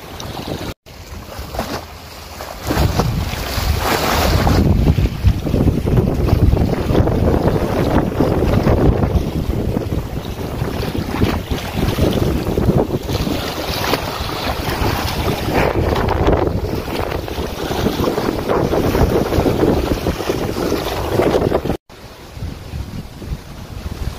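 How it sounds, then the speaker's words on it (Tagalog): Strong gusting wind from Typhoon Nanmadol in Japan, roaring loudly against the microphone with waves crashing and splashing throughout, a harsh sustained rumble with no talking. "ang lakas na, grabe, tumatalsik yung alon dito"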